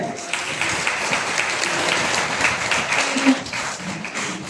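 Audience applause at a religious gathering honouring Maulana Hafiz Afzal Sahab, a steady dense wash of clapping from a crowd, moderately loud and sustained throughout with no pauses.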